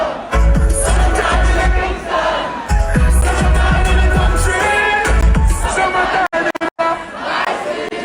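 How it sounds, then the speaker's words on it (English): A large, loud festival crowd roars and cheers at the Wireless Festival finale in the UK, with dense sustained shouting and chatter that swells and briefly drops out near the end. "igniting the crowd at Wireless Festival's highly anticipated finale on Sunday"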